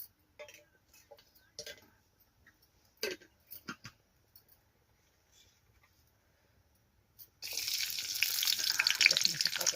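Garlic dropped into hot oil, preceded by scattered clicks and taps, then a sudden close, loud sizzle that continues steadily to the end.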